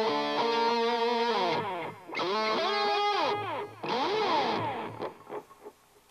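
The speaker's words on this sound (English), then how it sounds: "analog delay" Electric guitar run through the analog delay setting of a Line 6 HD147 amp, with three sustained strummed chord phrases, each bending and trailing off into repeating echoes, fading out at the end.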